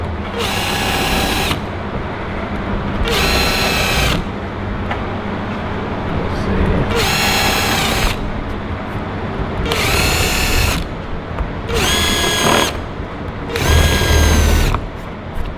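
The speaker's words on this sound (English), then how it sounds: "after you have all the drills or all the holes drilled out" A power drill bores holes for rivet nuts in a Dodge Challenger front splitter, running in six loud, whining bursts of about one to two seconds each, separated by pauses filled with workshop noise.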